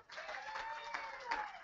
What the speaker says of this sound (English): How about a round of applause for Blue